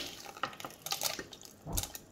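A mixture of soaked dates, baking soda and hot water is poured into a bowl for a sticky toffee pudding, giving faint, uneven splashing and trickling liquid sounds with no talk.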